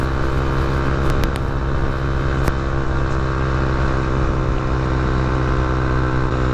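A cheap beginner motorcycle rides along a road, its engine droning steadily and loudly with a constant low rumble and wind rush, no speech over it.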